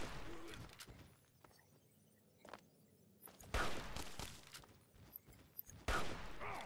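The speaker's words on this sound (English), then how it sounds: "The turret is hitting me now." Automated turret gunfire in Fallout 3 crackles in sharp bursts, quiet at first and then several loud, close volleys toward the end, with no voices.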